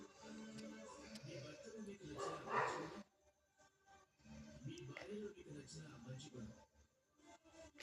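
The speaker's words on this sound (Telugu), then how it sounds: "స్ట్రీట్ డాగ్స్ బాగున్నాయి కదండి" Street dogs give a few yips and barks, faint and somewhat distant, mixed in with nearby talking.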